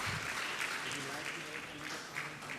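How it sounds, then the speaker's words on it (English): Audience applause at a youth dialogue event held by a chamber of commerce, a steady dense patter of clapping at moderate level with voices mixed in underneath. "we would like to give the most thunderous applause for him"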